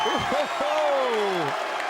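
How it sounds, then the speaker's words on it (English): Crowd noise at a darts final between Martin Adams and Dean Winstanley, a broad wash of cheering and applause running under a voice speaking over it. "the crowd roaring on their encouragement for Dean Winstanley"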